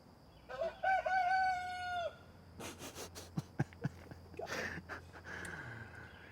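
A rooster crows once, loud and fairly close, then gives a few shorter clucks and calls in a quiet outdoor garden setting, with no speech.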